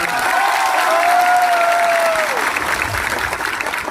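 Crowd applause at a political gathering in Tripura, a steady dense wash of clapping filling the whole clip, with a sustained whistle or tone rising briefly above it.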